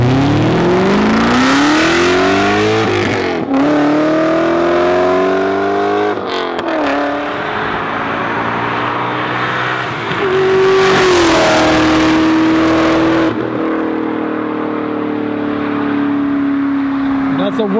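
A BMW M5 F10 engine roars loudly at high speed, its pitch sweeping up and down through repeated hard pulls and gear changes, steady and close throughout.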